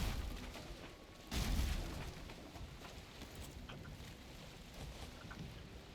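A sailing boat in the Valheim video game gets under way, with a soft rushing swell of wind and water, a louder whoosh and thump near the start, then steady faint sea and wind noise.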